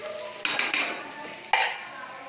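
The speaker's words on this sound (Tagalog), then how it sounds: "gigisa akong luya, bawang, sibuyas" Ginger, garlic and onion sautéing in a pan, with a bright steady sizzle punctuated by a few sharp clinks and scrapes of a utensil against the metal, close and fairly loud.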